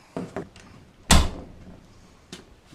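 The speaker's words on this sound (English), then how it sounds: "Then we're going to go ahead and shut the door." A door on a Can-Am Defender with Armor Tech doors is swung shut, making one sharp, loud slam with a brief rattle, after a couple of quieter handling knocks and before a faint later clunk.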